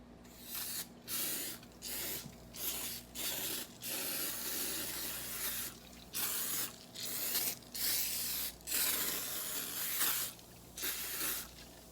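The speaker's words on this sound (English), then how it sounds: "you want to take your cake pans and you want to spray them" Repeated short bursts of aerosol cooking spray hiss onto cake pans in an irregular rhythm, about a dozen sprays with brief pauses between, close and fairly soft.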